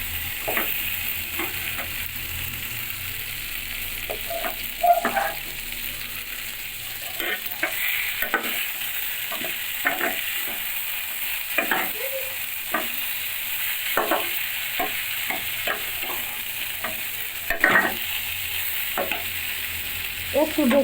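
Fried rohu fish pieces are stirred with spices in a pan, with repeated scraping strokes of a spatula over a soft, steady sizzle of oil, close by and fairly quiet.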